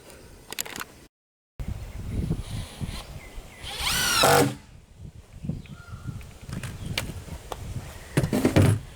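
A power drill drives number 10 three-quarter-inch wood screws into a wooden stand for a 40 gallon breeder tank, with one loud, rising whir of the motor in the middle and fainter workshop clatter around it.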